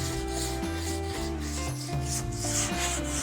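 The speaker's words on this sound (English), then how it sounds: "you want to go in the X pattern as you're sanding" Continuous rough rasping of 80-grit sandpaper scrubbing back and forth in an X pattern over a 1965 Rambler car body, close and steady, with a low hum underneath and no voices.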